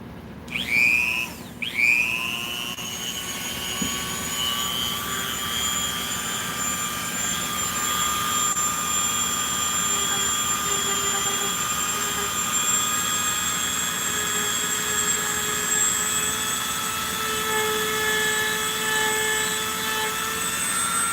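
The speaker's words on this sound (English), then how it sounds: "I'm just going to Dremel it into the right shape." A Dremel rotary tool grinds a latex werewolf piece, giving a steady high-pitched whine that holds for the whole stretch after a brief start-up.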